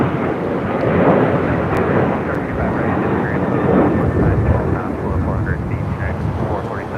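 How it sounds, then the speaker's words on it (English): United Airlines Boeing 737-900ER taking off from LAX bound for Cancun, a loud rumbling jet engine roar that surges and swells unevenly for several seconds, with a voice faintly present under it. "1276 taking off to Cancun on a 737-900ER"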